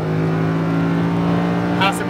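A Lamborghini Huracan engine accelerates hard on a Las Vegas track, a loud steady droning roar that builds slightly toward the end, with an instructor's voice talking over it.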